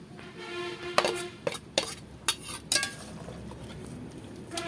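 Pabda fish curry stirred in a pan after water goes in, a few sharp clinks of a utensil against the pan over a steady background hiss.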